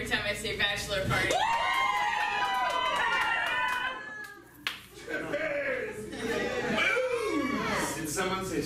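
A bachelor party crowd cheers and whoops with clapping and bursts of laughter. Excited overlapping voices rise and fall, dip briefly, then swell again.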